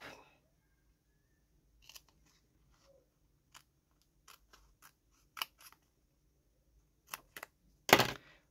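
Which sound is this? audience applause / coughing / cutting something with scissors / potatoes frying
cutting something with scissors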